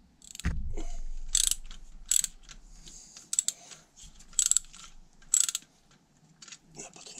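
Ratchet clicking in short, sharp bursts while an alternator is refitted on a car engine to replace a burnt-out voltage regulator, with a thud at the start and quiet gaps between bursts, close by.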